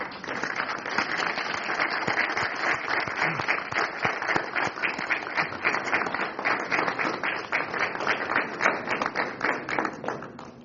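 Steady applause from a large crowd at a military commissioning ceremony, many hands clapping continuously and evenly throughout, with no voices over it.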